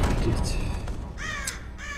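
A crow caws in the night-forest game Barrow Hill, two sharp harsh calls near the end, over a low rumbling background with a voice talking underneath.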